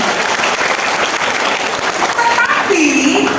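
A large gathering of Indonesian migrant workers in Hong Kong bursts into loud, dense applause at a community event, the clapping sustained and close, with a voice faintly rising near the end.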